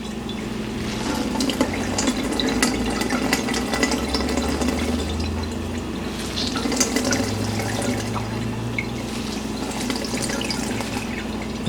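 Squeezed fresh ginger juice drains steadily into a bowl, a continuous soft trickle and splash with faint drips, close and unbroken throughout with no talking.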